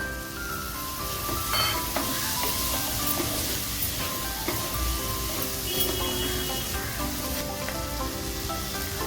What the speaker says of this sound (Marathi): हे 150 ग्राम मटर टाकूया